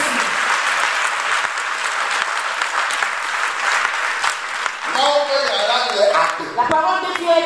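A church congregation gives loud, sustained applause and cheers acclaiming a Bible verse, and then voices shout and speak over the tail of the clapping.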